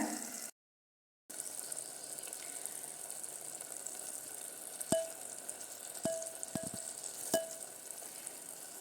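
Tomatoes with turmeric and rock salt fry in a pan with a steady, close sizzle, broken by a few sharp metallic clinks of stirring and one short silent gap near the start.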